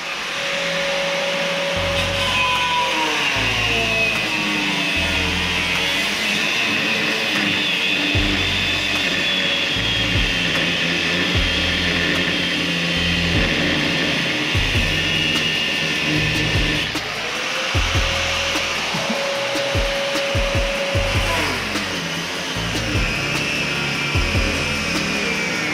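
A power tool cuts through a seized bolt on a Range Rover Sport L320 with a 306DT engine during body removal, a loud continuous grinding whine with a few brief pauses and shifts in pitch as the blade bites, no talking.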